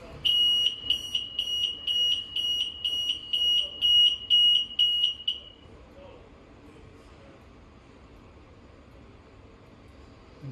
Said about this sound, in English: While this is holding in, you're going to hear the horn and the light will be flashing.